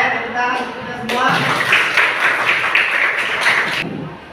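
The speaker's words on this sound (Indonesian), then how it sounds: "tepuk tangan untuk kita semua." Students in a classroom clap together in applause during a teacher-training lesson, a dense burst of clapping lasting a few seconds after a brief lead-in, near and fairly loud.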